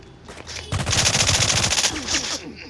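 Gunfire in the video game rec.o.r.d: a fast burst of automatic machine-gun fire, loud and close, rattling steadily for over a second before tapering off.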